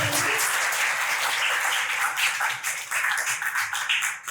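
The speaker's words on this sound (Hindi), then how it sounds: "एक बार जोरदार तालियों से भैया जी का स्वागत करेंगे" Workshop audience at a youth memory-power session gives loud, continuous applause welcoming the guest, a dense wash of clapping that holds steady from start to finish.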